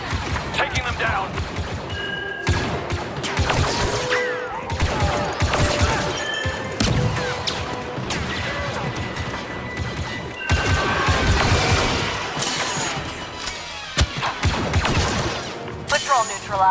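Blaster gunfire in the Star Wars Battlefront 2 video game crackles in dense bursts with sharp crashes and impacts, loud and close, with shouted voices mixed in among the shooting.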